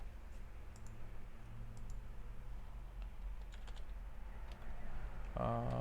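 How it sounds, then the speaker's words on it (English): Typing on a computer keyboard: a run of soft, quick key clicks, with a louder burst of keystrokes at the close. "I'm gonna type in"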